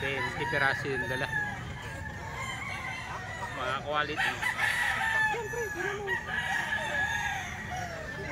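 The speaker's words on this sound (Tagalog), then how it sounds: "Dami nilang manok." Gamefowl roosters crow repeatedly at a seller's place, several distinct calls rising out of a busy flock, some close and loud, others farther off, while someone talks over them.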